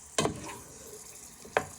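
Onion and garlic frying in a pan while being stirred, two short loud scraping stirs standing out over a soft continuous sizzle.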